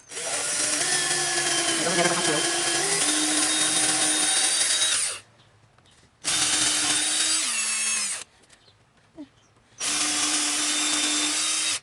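A power drill bores into wood while building a band saw circle jig in a workshop, running in three loud, steady bursts with a winding-down whine between them and short quiet pauses.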